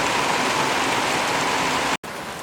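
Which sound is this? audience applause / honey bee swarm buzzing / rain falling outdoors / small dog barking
rain falling outdoors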